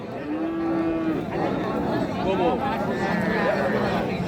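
At a cattle market selling Sahiwal, Sindhi and local-breed cows with calves, a cow lows in a drawn-out moo early on, with further bovine calls amid bargaining voices and crowd chatter nearby.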